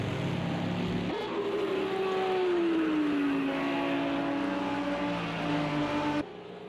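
Throaty Bentley race car engines roar in a sim racing endurance event at the Catalan circuit, one loud sustained engine note sliding slowly downward as a car passes close, then cutting off abruptly.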